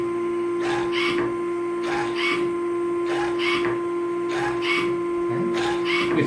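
A FESS Food Equipment sausage stuffer and linker combo runs with a steady high whine and repeating rhythmic mechanical bursts about once a second, loud and close.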